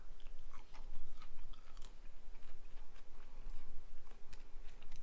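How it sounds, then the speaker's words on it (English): Fresh daylily petals being chewed close up, soft wet crunching bites repeating in an irregular rhythm, quiet and alone. "You can eat the whole bud."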